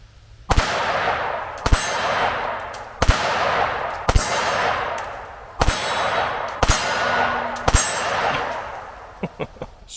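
Pistol rounds fired downrange at a pumpkin ring out as sharp, loud single shots spaced a second or so apart, each with a brief echoing tail, ending in a few quicker, fainter pops.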